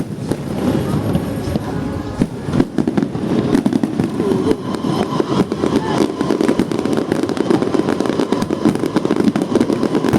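Large six-inch fireworks shells bursting low over a Philippine display, a dense, continuous barrage of loud booms and crackling breaks close by, with people talking faintly underneath.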